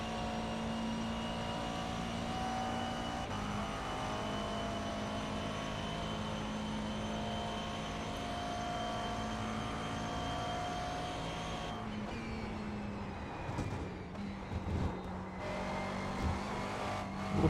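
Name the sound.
race car engine in a racing video game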